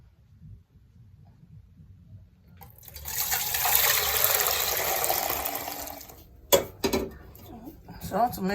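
Kitchen tap water gushing into a pot to be boiled for making fufu, a loud steady rush lasting a few seconds after a quiet start, then cutting off, followed by brief clattering and voice sounds.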